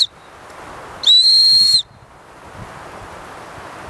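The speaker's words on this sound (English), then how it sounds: "I'm going to show you just how the whistle sounds" A shrill, piercing blast from the small survival whistle on a Gerber Bear Grylls fire starter, one short loud tone lasting under a second against faint background hiss.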